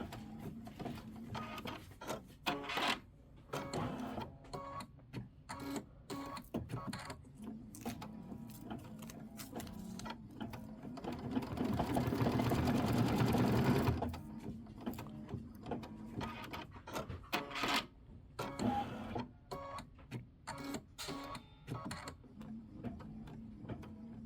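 An embroidery machine stitches a running stitch on a Kimberbell Hello Sunshine block, a rapid patter of needle strokes that swells to a louder steady run midway, with quieter clicks and handling noises around it.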